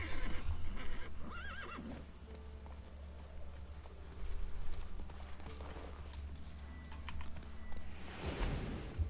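Roach, the horse in The Witcher 3: Wild Hunt, whinnies loudly a couple of times amid hoof clops and some keyboard clicking, close and without speech.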